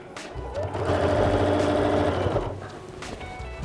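A domestic sewing machine stitching a seam on Greta dungarees runs in one steady, close burst of rapid whirring for about a second and a half, then stops, with a few soft handling clicks before and after.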